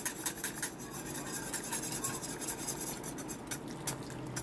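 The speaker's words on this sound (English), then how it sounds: "I switched to a whisk too, to kind of help get the clumps out." Whisk scraping and rubbing steadily in a pot of thickening cheese sauce, a continuous close rasping stir with quick rhythmic strokes, no voices.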